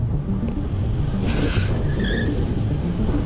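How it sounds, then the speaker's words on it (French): A big car rolls past on a country road with a steady, rumbling engine and road roar. It stays loud and near throughout, and a brief tire squeal can be heard partway through. "Un gros beauf avec une grosse bagnole qui pollue."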